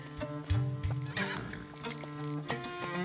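A cartoon horse whinnies loudly up close, followed by scattered hoof clops and other farm animal sounds.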